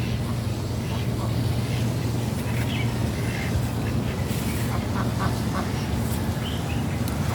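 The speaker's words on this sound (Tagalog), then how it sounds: "Tsaka yung daming itik. Ang daming pato rito sa lobo." Flock of many ducks quacking in a garden, repeated overlapping quacks near and far over a steady low hum, with a person's voice faintly present.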